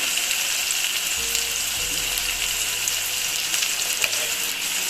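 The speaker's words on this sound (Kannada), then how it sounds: "ನೀಟಾಗಿದ್ದು ಆಯಿಲಲ್ಲಿ ಫ್ರೈ ಆಗಬೇಕು" Oil sizzles steadily in a pan as food fries for a simple chitranna breakfast, a constant bright hiss with a low bubbling undertone and no talking.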